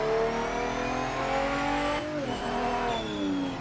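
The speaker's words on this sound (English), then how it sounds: "I enjoyed the engine noises more than anything else, I think." Race car engine in the PC racing game PMR, revving hard and steady with rising and falling pitch, a brief gear-change dip midway, loud and close with no voices.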